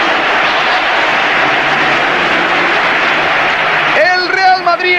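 A football stadium crowd at a Real Madrid versus Athletic Bilbao league match keeps up a broad, roaring wash of clapping and cheering, then a commentator's voice cuts in over it near the end.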